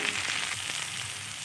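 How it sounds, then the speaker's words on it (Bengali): Dried fish pieces fry with garlic and chili in hot oil, giving a steady, quiet close-up sizzle with faint crackles and no voices. "মাছের টুকরোগুলো দিয়ে দিচ্ছি, দিয়ে আবার একটু ভালোভাবে ভেজে নেব।"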